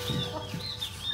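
Chickens clucking at feeding time, a few short close clucks over a steady background, with no talk.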